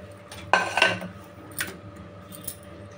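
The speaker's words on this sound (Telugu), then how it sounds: "ఇప్పుడైతే విజల్ తీసేసుకుందామండి." Metal clinks and clatter as the whistle weight comes off a pressure cooker of cooked bottle gourd dal on a switched-off stove: a busy cluster of rattles early on, then two short, sharper clicks, close by against a quiet kitchen.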